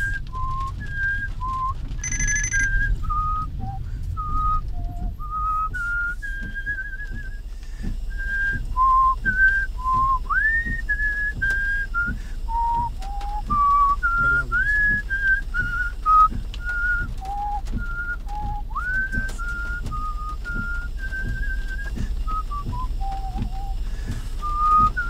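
A person whistles a lively tune solo and close up, a long run of clear, bending melodic notes with no talking.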